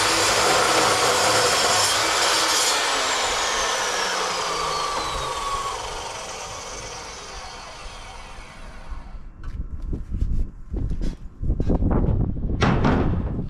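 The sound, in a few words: cold cut saw cutting 2-inch square steel tube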